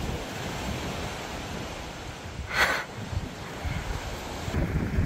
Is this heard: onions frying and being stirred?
no